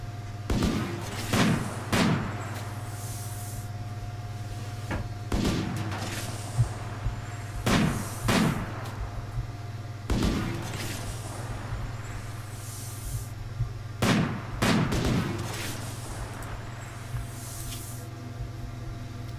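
Sniper rifle shots in the colony game RimWorld, sharp single cracks and paired reports spaced several seconds apart, fairly faint over a steady low hum.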